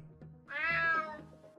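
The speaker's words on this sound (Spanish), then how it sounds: "Maldito gato." A cat in the video game UnMetal gives a single clear, drawn-out meow, fairly close and alone after a brief quiet moment.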